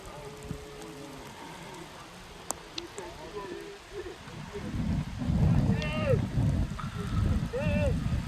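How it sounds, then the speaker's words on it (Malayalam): Rain beginning to fall on hillside grassland at Mucheeri hill in Palakkad, a soft steady patter that thickens into a louder wash partway through, with faint background sounds and no clear talk. "നമ്മൾ ആ ഇറങ്ങാൻ നേരത്താണ് ഈ മഴ പെയ്യുന്നത്"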